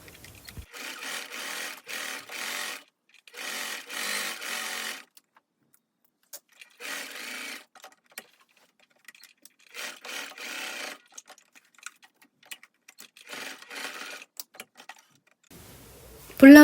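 A sewing machine top-stitches around the edges of the cuffs on a floral-print cotton blouse, running in several short bursts of a few seconds each, separated by quiet pauses.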